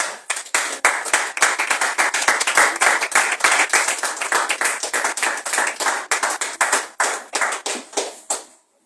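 A church congregation claps together in a steady, loud, rapid rhythm for several seconds, a dense run of sharp hand strikes that tapers off and stops near the end.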